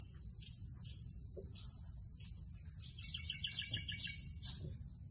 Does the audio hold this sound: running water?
no